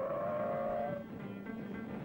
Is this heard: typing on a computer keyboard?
no